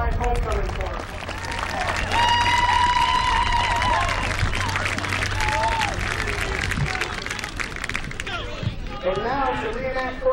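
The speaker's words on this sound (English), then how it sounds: "please give a round of applause for your 1995 homecoming course" Applause and cheering from a football stadium crowd at a 1995 Buena Vista University homecoming game, a steady broad roar of clapping mixed with voices and music-like tones, lasting throughout.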